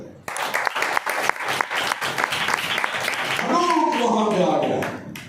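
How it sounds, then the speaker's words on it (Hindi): Congregation at a Sunday church service breaks into loud applause, claps rising over a murmuring crowd and continuing for several seconds before fading. "इनके लिए जोरदार ताली जाए।"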